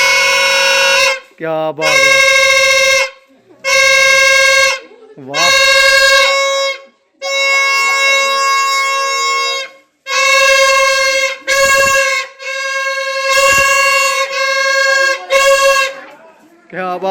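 Four vehicle horns rigged together on a children's homemade contraption blare in loud repeated blasts of a few seconds each, with short gaps between, and a voice briefly calls out over them.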